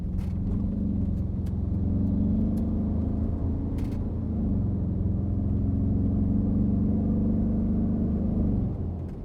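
Audi RS6 V8 engine running in a roughly twenty-year-old car, a steady, deep, throbbing rumble that holds evenly for several seconds, heard close with no talking.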